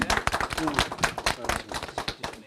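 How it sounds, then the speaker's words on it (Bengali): An audience at a 21st anniversary celebration for Boishakhi TV claps in an irregular burst of close hand claps, with voices talking over the applause. "একটু করতালি দিয়ে আমরা ধন্যবাদ জানাই।"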